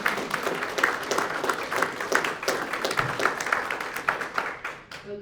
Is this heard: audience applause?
yes